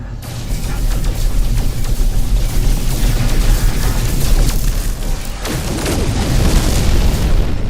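Weapon fire at pirate ships in the space game No Man's Sky, a dense run of booming blasts and bursts layered over a constant roar, loud and sustained with a few sharper hits late on.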